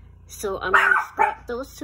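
A pet dog barking and yipping indoors in a bedroom, several sharp close barks in quick succession mixed with a person talking over them.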